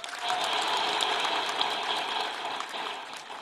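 Audience applause for the women of Bangladesh: a dense, steady wash of clapping that holds at an even level for a few seconds and eases slightly toward the end, with no talking.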